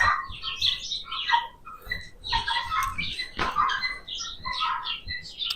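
Birds chirp and tweet outdoors at a horse-mounting session, a busy layer of high calls running throughout with some low rustle and wind underneath, fairly close and steady.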